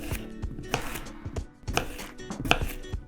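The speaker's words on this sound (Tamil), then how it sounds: "நல்ல ஃப்ரெஷ்ஷான கொத்தமல்லியை எடுத்து நல்ல பொடிசா நறுக்கி வச்சுக்கலாம்" A knife finely chops fresh coriander on a board, sharp uneven taps close up and alone, pausing briefly between bursts.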